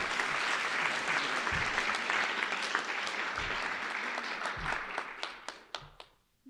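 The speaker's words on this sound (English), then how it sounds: "one more round of applause for everybody" Audience applause at a fall book award ceremony, dense sustained clapping from a crowd that thins into a few scattered final claps.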